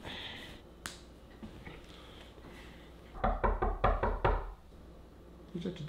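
Someone knocks on a door: a quick burst of sharp, rapping knocks midway, close and loud against a quiet room, followed by a faint brief tap near the end.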